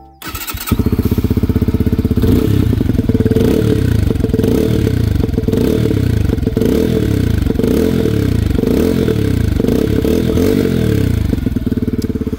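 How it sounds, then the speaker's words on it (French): A Peugeot PM-01 125 motorcycle, still being broken in, starts up and revs near the listener, a loud, steady buzzing engine with repeated rising and falling swells of throttle and no one speaking. "On va écouter le moteur."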